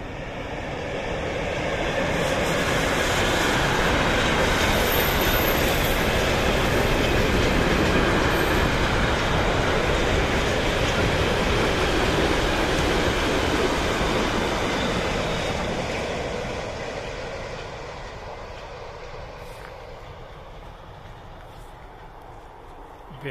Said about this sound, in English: Here is the train.